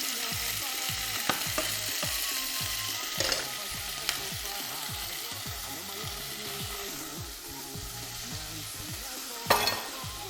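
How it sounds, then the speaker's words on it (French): Pieces of meat brown in a hot pan, giving a steady close sizzle and crackle with occasional scrapes and clicks of a utensil stirring, and no talking. "je vais juste colorer mes morceaux de viande"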